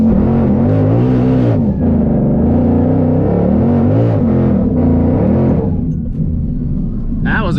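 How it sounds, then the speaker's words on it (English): Supercharged manual Ford Mustang doing a burnout at a drag strip, a loud sustained engine roar with pitch swings as the revs rise and fall, staying close and dominant while voices talk faintly underneath. "That was a good burnout."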